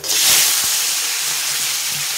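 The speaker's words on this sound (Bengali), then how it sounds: "তেলটা গরম হয়ে গেছে, দিয়ে দেবো আমি কাঁকড়াগুলি" Crabs for jhal chorchori hit hot oil, giving a steady loud hiss and sizzle that holds for the whole stretch, with a few faint knocks underneath.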